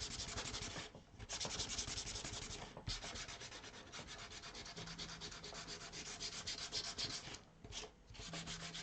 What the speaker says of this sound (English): if I see any areas where there's still a little gloss, I'll hit it again with the sandpaper.